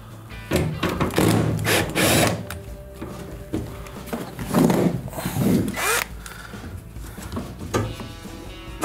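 A power drill drives a screw into the door hinge of an LG washing machine being repaired for a leaking door, whirring in repeated steady bursts with short pauses and clicks of the hinge between, close and fairly loud.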